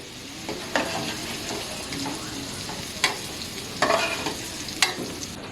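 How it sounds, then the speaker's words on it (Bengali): Potatoes sizzle in hot mustard oil with a little salt and turmeric, a constant close frying crackle broken by occasional clinks and scrapes of stirring. "আমাদের তেল গরম হয়েছে, আলুটা ভেজে নেব।"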